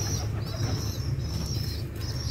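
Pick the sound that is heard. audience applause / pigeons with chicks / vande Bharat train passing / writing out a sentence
pigeons with chicks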